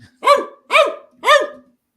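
A dog barks three times in an even rhythm, each bark a clear, close, loud, tonal woof separated by short silences, with no talking.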